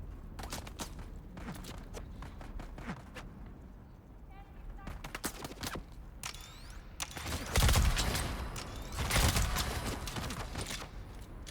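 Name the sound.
shotgun gunfire in video game Dune: Awakening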